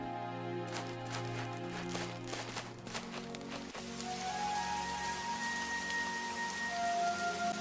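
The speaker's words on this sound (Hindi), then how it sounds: "देखो, फिर से बारिश शुरू हो गई।" Steady rain falls on a surface, a dense hiss of drops with some heavier patters and splashes early on, continuous and moderately close throughout.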